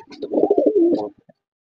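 A pet pigeon coos as it is touched, a soft, close, throaty warble rolling for about a second before a brief final note, with no talk over it.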